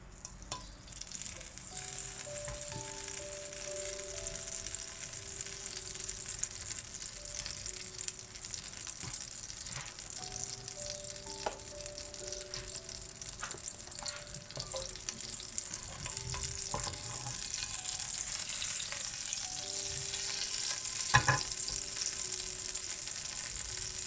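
Butter frying in a pan for a quick breakfast, giving a steady, close sizzle that runs the whole time. Occasional stirring clicks and one sharper clatter sound over the frying, and no one speaks.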